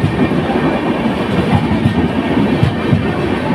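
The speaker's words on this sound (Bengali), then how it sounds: "আর ট্রেনটা শুরুতেই পিক আপ তুলে নিয়েছে প্রায় 50+" The Saraighat Express, already up to about 50 km/h soon after departure, rumbles steadily along the rails with a continuous loud clickety-clack of wheels over track joints and no voices.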